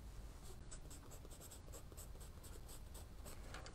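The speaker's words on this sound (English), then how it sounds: "So you draw lines going in one direction, then you make some hatch marks going in the opposite direction, crosshatch." A 2B pencil scratches hatch marks across paper in a steady run of short, repeated strokes, close and fairly loud with no talking.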